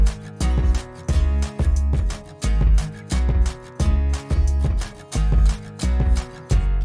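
A kick drum and bass line from a song play together in a steady looping groove, the thumping kick locking with a deep bass riff, loud and close, with no voices.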